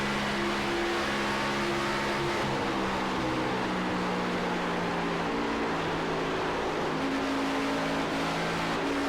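Several race car engines drone and surge steadily at Auto Club Speedway in a sim racing game, a continuous layered roar with sustained harmonic tones throughout, no talking.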